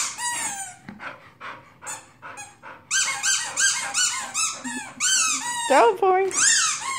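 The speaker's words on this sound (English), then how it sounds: "Squeaky toy, squeaky toy, squeaky toy!" A squeaky dog toy squeaks repeatedly in quick bursts, close and fairly loud, while a dog pants nearby and people talk over it throughout.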